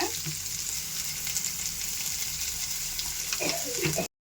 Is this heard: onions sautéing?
yes